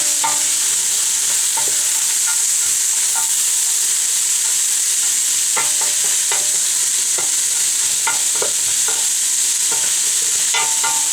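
Carrots and other vegetables for a turkey chili simmer in a pot with a steady sizzling hiss, broken by repeated scraping clinks as a spoon stirs them; no talking.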